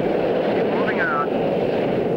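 A jet-powered land speed record car streaks past at speed on a course, a loud, steady roaring rush with a brief rising and falling whine. A commentator talks over it.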